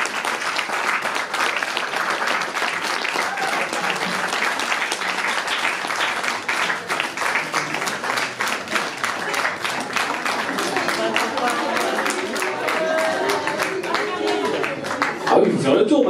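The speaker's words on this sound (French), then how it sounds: "sous les applaudissements" Sustained applause and clapping from an audience at a fashion show at La Cloche in Dijon, steady and fairly loud for the whole stretch, with some voices mixed in toward the end.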